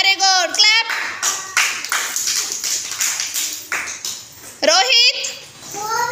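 Young children in a classroom colour activity clap together in bursts of quick, close hand claps, with a teacher's voice and children's speech at the start and end.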